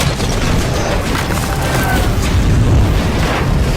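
A huge movie explosion from The Incredible Hulk (2008) with a helicopter downed nearby roars as a dense, continuous wall of booming, crackling noise that stays loud and full throughout, with no pause.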